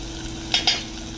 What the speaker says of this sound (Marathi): कांदाही छान गोल्डन रंगावरती भाजून घेऊया